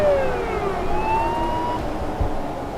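Police car siren in the Euro Truck Simulator 2 driving game, a wailing tone sweeping up and down over the steady hum of a moving vehicle, moderately loud and alone.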